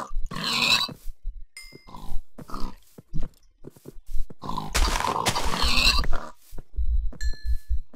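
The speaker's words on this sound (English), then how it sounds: "Well, the pigs." Pigs grunting in Minecraft survival play, a series of close, loud snorts and grunts in uneven bursts with short pauses between them, and no talk over them.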